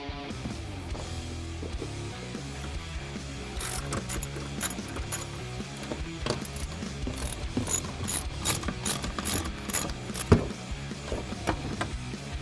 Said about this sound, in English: The next thing you want to do is take a 13mm deep socket.